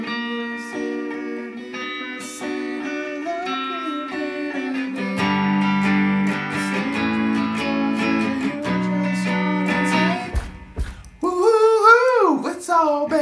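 Electric guitar plays the distinctive part from a song, picked notes and chords with a clear, moderately loud tone, ending in a few bent, wavering notes.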